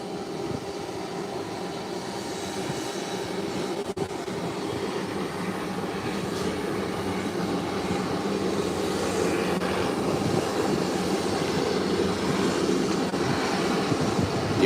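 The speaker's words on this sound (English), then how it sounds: "Inter-Caribbean twin otter out of South Caicos. Landed safely." An Inter-Caribbean Twin Otter plane is landing and taxiing at Providenciales: a steady, moderately loud engine drone and rumble that holds throughout and grows slightly stronger toward the end.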